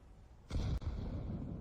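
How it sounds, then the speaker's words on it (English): A grenade going off in a professional Counter-Strike match: one sudden, fairly distant boom with a short rumbling tail, rising from a quiet background and ending within about a second. "There's the nade."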